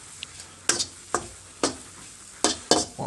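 Fried rice with bacon is stir-fried in a wok, with a soft background sizzle and a series of sharp metal spatula scrapes and clacks at an uneven rhythm.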